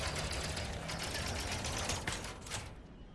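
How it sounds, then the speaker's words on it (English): A generator in the video game Elite: Dangerous Horizons gives off a dense, steady mechanical whirr that stays loud and continuous, then thins slightly at the very end. "Oh, this is a generator. This is a generator. I can blow it and turn off the turrets."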